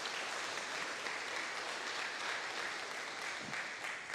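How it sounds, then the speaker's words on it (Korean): A church congregation applauds to welcome a guest during a Sunday worship service, steady broadband clapping filling the whole stretch at a moderate, even level with no voices on top. "우리 박수로 환영하고 가도록 하겠습니다"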